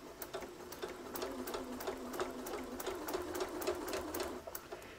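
A long arm quilting machine stitches a rug, its needle chattering in a steady fast rhythm over a soft motor hum, close and continuous.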